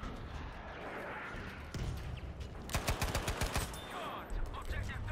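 An M3 Grease Gun submachine gun fires in Battlefield 5, a short, rapid burst of distinct automatic shots over background battle noise, with single pops before and after.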